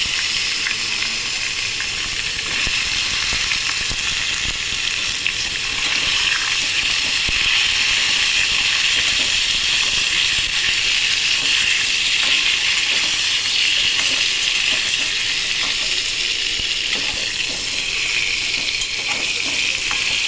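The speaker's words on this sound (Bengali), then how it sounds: "বেগুনটা ভাজা ভাজা করে ফিরছি" Eggplant frying in oil in a pan alongside hilsa fish with black cumin tempering, a loud continuous sizzle and watery hiss running steadily without pause, no voices.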